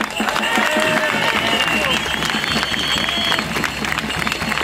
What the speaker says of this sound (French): vous pourriez l'applaudir, je pense qu'elle en a besoin